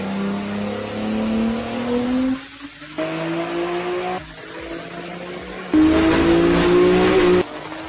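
Heavily modified BMW G80 M3 with a turbo setup making 1550 wheel horsepower, its engine loud and close as it revs and accelerates through rising pitch sweeps with abrupt shifts, no voices heard.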